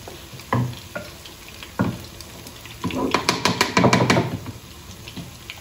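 Pastry frying in hot oil is stirred with wooden spoons, with soft sizzling under several sharp knocks and a burst of rapid clattering scrapes in the middle, fairly close and without talk.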